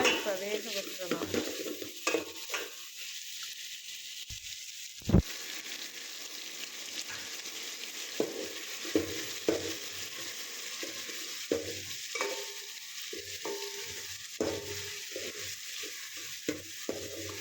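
Prawn curry cooking in a pan, sizzling and frying steadily with intermittent stirring scrapes and light utensil clinks throughout, close and alone without talk.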